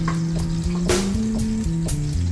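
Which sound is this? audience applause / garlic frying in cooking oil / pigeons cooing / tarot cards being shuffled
garlic frying in cooking oil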